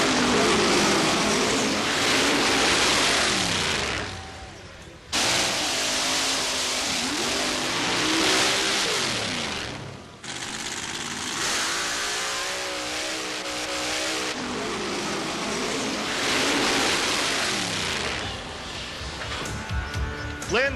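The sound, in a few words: 1927 Peyton Roadster mud racer, 550 cubic inch Chevy engine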